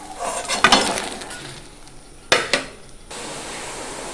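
Eggplant slices frying in hot oil in a pan for a tangra fish jhalda: a steady sizzling hiss broken by two sharp clatters of a utensil scraping and stirring against the pan.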